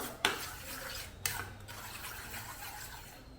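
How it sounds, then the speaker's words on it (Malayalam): Eggs beaten with a spoon in a bowl for a chapati-style dough: faint scraping and stirring strokes with two sharper clinks of spoon against the bowl, quiet and close, no talking. "സ്പൂൺ കൊണ്ട് അടിച്ചെടുത്താൽ മതി."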